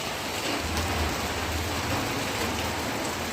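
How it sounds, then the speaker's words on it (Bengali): Heavy rain pours steadily, seen from a balcony, a dense continuous hiss that stays loud and even throughout with no voices. "তারপরে দেখো এরকম বৃষ্টি শুরু হয়ে গেছে, প্রচণ্ড বৃষ্টি হচ্ছে।"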